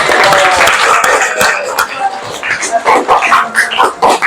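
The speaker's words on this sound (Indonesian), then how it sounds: "tepuk tangan" A classroom of students claps hands briefly and loosely, a short burst that thins into scattered claps and shuffling, with murmured talk underneath.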